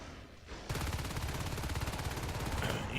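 Rapid automatic gunfire erupts in a Natural Selection 2 competitive match after a brief quiet moment, dense crackling bursts continuing loudly and steadily, with no talk over it.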